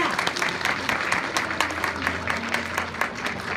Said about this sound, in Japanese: もう一度盛大な拍手でお送りください